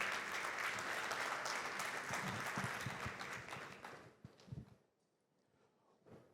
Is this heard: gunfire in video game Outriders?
no